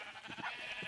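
A Minecraft sheep bleats in short wavering pulses, several quick bleats in a row at moderate volume with no talking over them.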